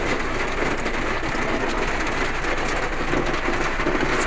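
Dense, steady heavy rain roaring without a break by the sea, a loud broadband wash that fills the whole clip.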